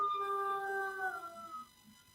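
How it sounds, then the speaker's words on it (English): A wolf howl played back through a phone speaker, one long, rising and falling tonal cry that holds for over a second and then fades, thin and fairly clear. "It was the wolf from the coach phone."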